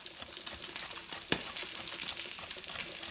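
Salmon frying in a pan, a soft continuous sizzle with faint crackles and one brief sharper pop, quiet and without voices.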